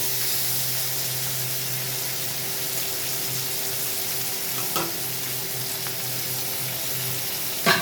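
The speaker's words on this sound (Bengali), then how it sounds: "কাঁচা লঙ্কাটা পেঁয়াজটা লাল লাল ভাজা হোক একটু" Green chillies and onions sizzle steadily in a pan, a constant close frying hiss with occasional stirring scrapes and a louder clatter near the end.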